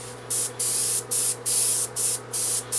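Spray bursts painting a 1/25 scale model car part, six short hissing blasts in a steady on-off rhythm, close and fairly loud over a faint constant hum.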